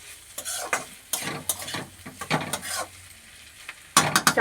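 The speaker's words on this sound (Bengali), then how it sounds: "এবার এটা একটু নাড়াচাড়া করে" Spoon stirring peas with salt, turmeric and spices frying in bhetki fish oil in a wok, a series of sharp scraping strokes over a soft sizzle, with gaps between them and a quicker burst at the end.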